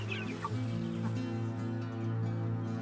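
Brown laying hens and large white meat chickens on a sheep farm in rural Lithuania: steady close clucking and murmuring from a flock, with occasional higher squawks and no talk.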